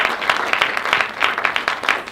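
Audience at a Singapore women's excellence awards ceremony applauds a woman entrepreneur award winner called to the stage, steady dense clapping filling the hall throughout.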